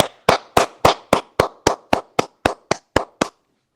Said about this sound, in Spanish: Lo estaba aplaudiendo, lo estaba aplaudiendo.